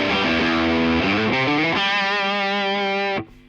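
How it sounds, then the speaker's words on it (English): An electric guitar runs through a ToneX amp profile with the gain turned up, giving thick distorted sustained chords that ring loud and up front for about three seconds before cutting off, with no voices. "You turn the gain up."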